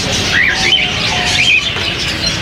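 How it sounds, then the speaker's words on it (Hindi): Bengalese finches chirp at a Sunday bird market in Bahawalpur, their short high tweets rising over a dense, constant din of market noise and other birds. "ये बेंगलाइज के पेयर्स हैं और काफ़ी क्वांटिटी में मौजूद है मेरे पास"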